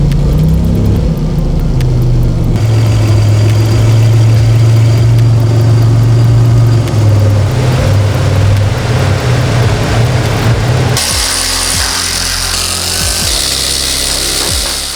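A 1986 Nissan 300ZX engine idles steadily while stationary, warming to operating temperature, with a loud continuous hum and a rattly, buzzing texture that shifts in tone partway through; no talking.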